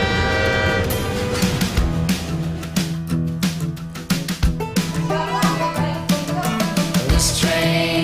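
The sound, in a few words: people imitating a chugging train together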